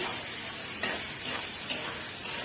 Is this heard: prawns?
yes